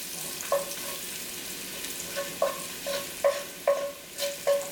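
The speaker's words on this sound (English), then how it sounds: "Now we're roasting our garlic. We just want to let that quickly brown in the center of the pan." Garlic sizzles in a hot pan for a chicken and rice dish, a steady frying hiss punctuated by a series of clicking, scraping stirs at close range.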